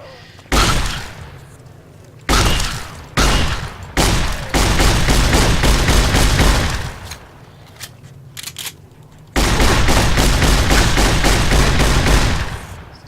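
Shotgun fire in Fallout New Vegas: several loud, close blasts in separate bursts, some quick and clipped and others long and roaring, with short quiet gaps between them.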